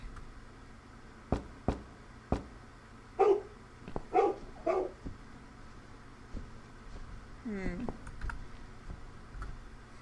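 A dog in The Cat Lady video game barks in a few short bursts midway, mixed with sharp clicks and a voice talking over it.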